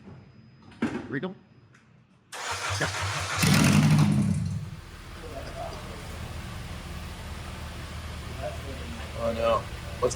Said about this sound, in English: If the engine had compression, it might start.